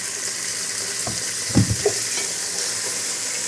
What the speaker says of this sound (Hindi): इसको भी हम 3 से 4 मिनट फ्राई करेंगे।